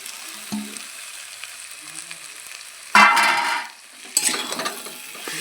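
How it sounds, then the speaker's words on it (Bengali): Potatoes and soybean chunks go into hot frying masala with a sudden loud burst of sizzling that fades, then flares up again as stirring clatters in the pan. "এবার আমি দিয়ে দেবো আলু আর সোয়াবিন।"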